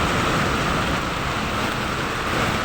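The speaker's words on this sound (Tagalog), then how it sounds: "Lakas ng ulan talaga." Heavy rain from Typhoon Carina pours down in a dense, continuous roar by the sea, loud and unbroken throughout.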